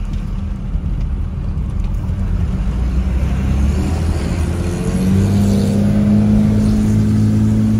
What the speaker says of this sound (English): it's definitely an old diesel. And you can hear that turbo whine. It's got the Cummins turbo diesel.